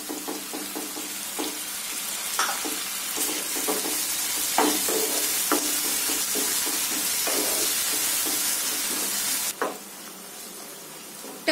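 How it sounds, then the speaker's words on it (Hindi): Chopped tomatoes frying in a hot tadka with whole dried red chillies for restaurant-style dal, a steady loud sizzle with repeated scraping stirs throughout, then a brief softer stretch at the end. "लाल मिर्च, और इनको भी अच्छे से मिक्स कर लेते हैं इसमें। साथ ही में डाल देते हैं कटे हुए टमाटर।"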